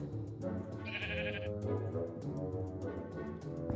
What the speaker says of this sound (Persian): سلام گوسفند.